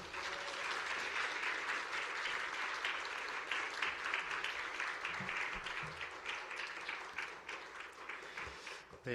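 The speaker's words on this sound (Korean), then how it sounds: "여러분, 큰 박수로 맞아주시기 바랍니다." A church congregation at a Friday revival worship service claps warmly to welcome a pastor, a dense continuous patter of many hands that stays strong throughout with a few sharper individual claps and faint murmuring underneath.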